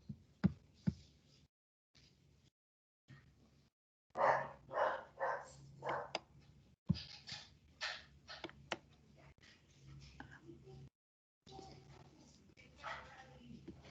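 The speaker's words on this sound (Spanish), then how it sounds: "Nevi, por favor, el perro. Una bulla terrible, pues no puedo dictar clases." A dog barks in a few bursts of short yaps, moderately loud and nearby, mixed with intermittent muffled sounds and gaps of silence.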